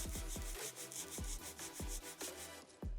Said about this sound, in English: File straight out from the nail groove until it's nice and even.